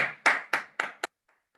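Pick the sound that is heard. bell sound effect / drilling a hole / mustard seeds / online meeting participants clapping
online meeting participants clapping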